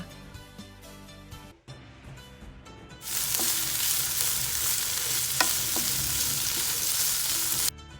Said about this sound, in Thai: ผสมกับหัวหอมซอยนะคะพริกสดซอยแล้วเดี๋ยวเราจะนำมาผัดกันค่ะ